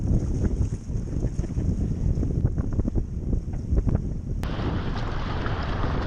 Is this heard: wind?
yes